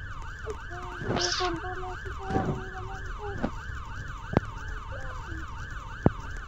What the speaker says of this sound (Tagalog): Ayun na pala yung ambulansya